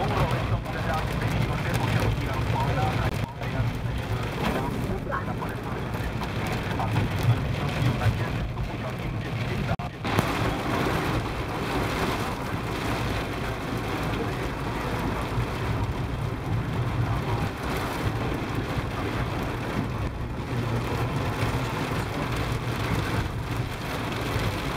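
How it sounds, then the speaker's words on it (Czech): Hail storm with large hailstones pounding down during a flash-flood downpour in early May, a dense steady roar of impacts that stays loud and even throughout, with faint voices underneath. "Velký kroupy."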